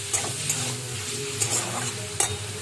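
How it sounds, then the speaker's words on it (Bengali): Onion fries with mushrooms in a pan: a close, steady sizzle broken by several quick spatula scrapes against the pan, with no one speaking. "পেঁয়াজটা এর সাথে একটু ভাজা হোক"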